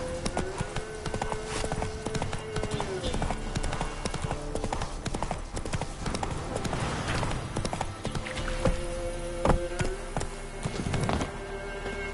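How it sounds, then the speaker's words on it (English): A horse gallops in The Witcher 3 on PS5, its quick rhythmic clip-clop hoofbeats continuing steadily and close, with game ambience and occasional effects around them. "Run, Roach."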